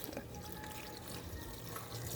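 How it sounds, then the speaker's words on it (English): Clean water poured into a cooking pot while making a guajillo sauce for bean tacos, a steady, fairly soft splashing stream that runs unbroken for about two seconds with no talk. "And now to this, I'm going to add some clean water."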